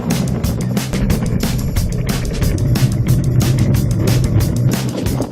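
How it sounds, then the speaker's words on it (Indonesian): A luge cart rolls down a track in Singapore with a steady close rumble of wheels on the surface and rapid rhythmic clatter over seams, continuous throughout. "aku sekarang mau naik luge"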